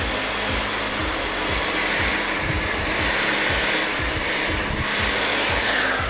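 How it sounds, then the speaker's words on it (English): A handheld hair dryer blows continuously at close range in a salon-style setting, a loud, steady whooshing roar with a faint fluttering texture and no talk. "With your hairdryer, just for a few seconds, and then release it."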